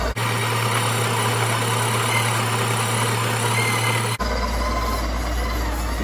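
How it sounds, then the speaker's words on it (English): Espresso machine's built-in grinder grinding coffee beans into a portafilter, a loud continuous motor whir with a low hum, close up and steady, changing pitch abruptly near the end, with no talk. "it will start to automatically grind the beans"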